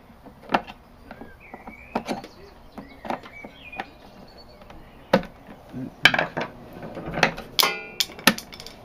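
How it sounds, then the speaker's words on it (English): Mechanical clicks, knocks and small metallic clatters as the lock barrel is pushed back into a BMW motorcycle pannier case, scattered irregular close taps with brief scraping between them. "Going to reinstall the lock barrel."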